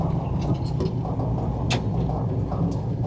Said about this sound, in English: Downshifts again, no weird noises from the transmission.